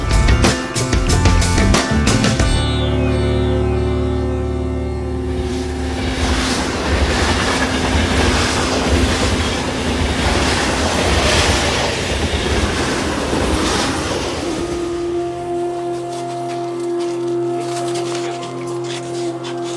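A passenger train in India running toward Varanasi rumbles loud and close, with rhythmic wheel clatter over the rails, squealing wheels and a steady hum that lingers as the train slows near the end.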